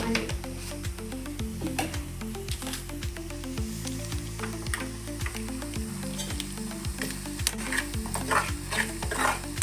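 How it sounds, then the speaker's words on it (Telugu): An egg fry sizzles steadily in a pan while a spoon stirs and scrapes through it, with repeated close clinks and scrapes over the constant frying hiss. Background music plays throughout. "మళ్ళీ కలపాలి మళ్ళీ మొత్తం కలిసేలా కలపాలి"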